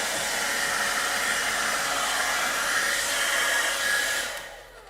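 A hair dryer blows off gold leaf flakes during gilding work, a loud, steady whooshing rush held close for several seconds before it winds down at the end.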